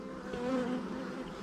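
Honey bees from a swarm trap buzz steadily at a 10-frame hive, a dense, continuous droning hum close by with no voices.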